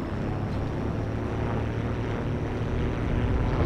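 Propeller planes drone overhead in the Heroes and Generals video game, a steady, loud engine hum that holds without a break for a few seconds.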